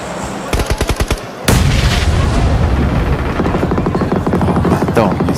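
Grenade blast in a streamed shooter game: rapid gunfire pops give way to a sudden loud booming explosion that rolls on as a dense, sustained rumble.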